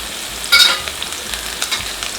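Mustard seeds, urad dal and chopped garlic fry in hot oil with a steady close sizzle, punctuated by a few brief crackling bursts as they pop.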